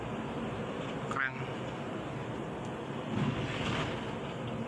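A boat on open water in the wind, with a steady wash of waves and wind rushing across the microphone, plus a faint brief voice partway through.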